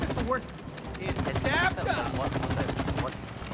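Gunfire rattles in the co-op video game It Takes Two, dense bursts of rapid shots over game sounds and effects from start to finish.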